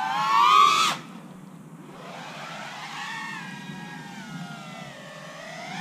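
FPV drone motors whining up and down in pitch through a power loop, a sharp high burst of throttle first, then a softer rising and falling whine as the quad swings around.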